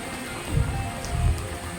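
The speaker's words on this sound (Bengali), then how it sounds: "দেখুন বৃষ্টি হচ্ছে" Steady rain patters and hisses across the whole clip, with a couple of duller thumps beneath it.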